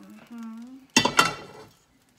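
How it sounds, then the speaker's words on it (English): Browned meat for mechado is tipped into a wok with a short double clatter and a burst of sizzle that fades quickly, after a voice speaks briefly beforehand. "I'm going to transfer it in my wok"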